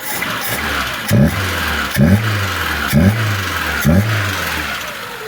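A car engine with a restored carburetor idles steadily. A low, even hum carries a faint rhythmic pulse at roughly one-second intervals, with no voices.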